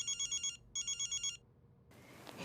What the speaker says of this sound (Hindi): बिन्नू को फोन आया ना